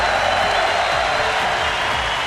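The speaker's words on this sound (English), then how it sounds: "and getting the applause he deserves" Steady applause from a large crowd at an esports finals match, a dense wash of clapping that stays even throughout.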